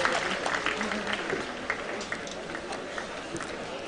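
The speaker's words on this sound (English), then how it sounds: "They deserve one more round of applause." An audience at a cultural function for 400 years of Carmelite presence in India applauds in sustained, dense clapping that fills the whole stretch, with some crowd noise mixed in.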